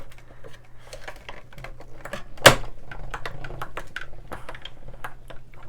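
A die cutting machine works on a table that shakes under it, giving a steady patter of light clicks and rattles with one sharp, loud knock midway, close by.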